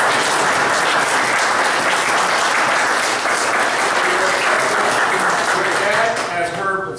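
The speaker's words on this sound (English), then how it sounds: "And I think you deserve a round of applause." A room of attendees at a city council meeting in China Grove, Texas breaks into a loud, sustained round of applause lasting several seconds, with voices mixed in as it fades.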